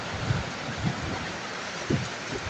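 Heavy rain falling in San Ildefonso, Bulacan, a steady broadband wash with a few soft low thumps or gusts, no talking.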